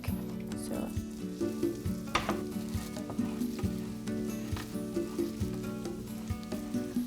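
About two cloves of ground garlic fry in a pan, sizzling steadily up close with soft stirring scrapes and small pops throughout, no one speaking.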